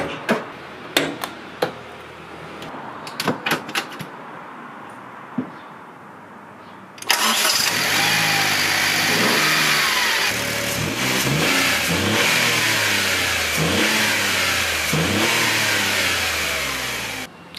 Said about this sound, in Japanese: このリアエンジンね、いや、いい音しましたよね。